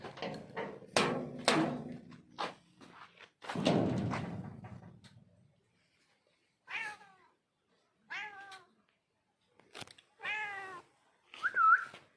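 A cat meows several times in short, rising calls with pauses between, preceded by a few dull thumps and knocks.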